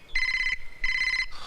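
A telephone rings in two long electronic bursts with a short gap between them, loud and close, and no one speaks.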